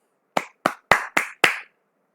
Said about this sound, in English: now today again we start with the claps business